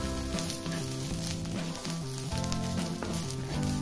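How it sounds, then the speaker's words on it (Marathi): Green chillies and garlic roast in a pan for Kolhapuri kharda, giving a loud, continuous crackling sizzle up close, with a low hum running underneath and no voices. "लसूणला पण थोडासा भाजून घ्यायचा, म्हणजे आता दोन्ही मिळून आता भाजलं जाईल"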